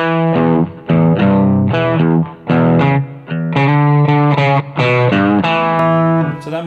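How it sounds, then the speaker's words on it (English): Electric guitar played through a Dumble-style amp with moderate overdrive distortion, sustained chords and single notes ringing loud and close with smooth, harmonically rich tone and short pauses between phrases. "I like to have not too much distortion on this amp, yeah? So if I ride it about there."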